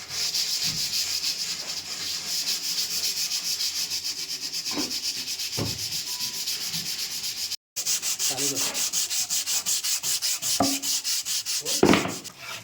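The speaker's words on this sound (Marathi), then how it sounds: "पॉलिशिंग करण्याआधीची प्रोसेस घासायला चालू केलेलं आहे आणि स्मूथ करणार पूर्ण पालखी" A teak wood palanquin is sanded by hand before polishing, giving a loud, continuous rhythmic scratching of rapid back-and-forth strokes, broken by a brief gap and a few knocks.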